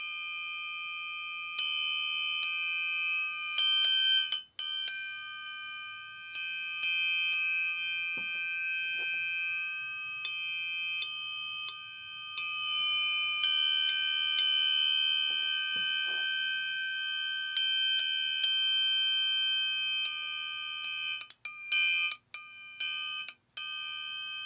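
The smallest of several triangles rings out under repeated strikes: bright, piercing metallic dings in quick flurries and single hits, each leaving a long shimmering sustain, close and clear with no talking.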